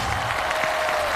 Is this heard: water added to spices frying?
no